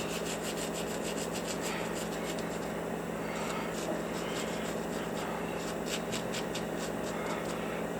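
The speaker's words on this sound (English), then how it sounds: "to tone that down a bit, I take a scrubber, a kitchen scrubber, and I cut it into little squares" A small square cut from a kitchen scrubber rubs steadily over a large fish carving, giving a continuous, faint scratchy rasp with rhythmic strokes and no talking.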